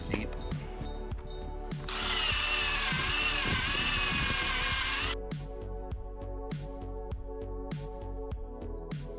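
A power drill bores bolt holes about two inches deep for a homemade yoke and squat rack, whining loudly for a few seconds amid clattering knocks and background music.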